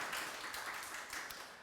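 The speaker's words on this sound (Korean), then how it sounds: "우리 서로 다시 한번 우리 감사의 박수 하겠습니다" A church congregation applauding together at a Sunday service, giving a dense, steady wash of many hands clapping that runs through the whole short moment, moderately distant and without pauses.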